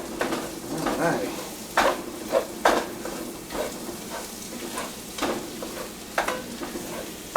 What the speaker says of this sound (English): it gets a little boring stirring in that pot